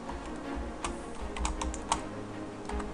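Rapid, uneven clicking of a computer keyboard as code is typed in Visual Studio, close and fairly clear over a steady low background hum.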